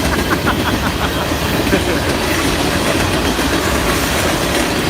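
A local train rolls past up close and loud, a steady rumble of wagons with faint clickety-clack on the rails, continuing without a break and with no talk over it.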